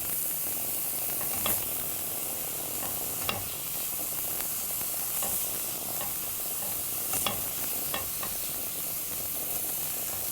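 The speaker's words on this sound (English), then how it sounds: "we're going to let those vegetables just saute a little bit till they get a little bit tender" Vegetables with garlic sauté in a hot pan, giving a steady close sizzle and hiss throughout, with a few faint clicks of stirring and no talking.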